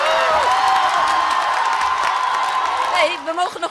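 Dutch football fans cheer loudly in Studio K during a women's football final, a dense, sustained roar of shouts and whoops that stays strong throughout and breaks into scattered yells near the end.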